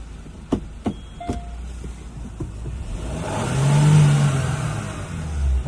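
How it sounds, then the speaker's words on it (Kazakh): A South Korean-made car engine idles and then revs up, preceded by a few sharp clicks, the rising mechanical drone swelling and easing as it runs nearby with no voices. "Мотор әдемі жұмыс істеп тұр."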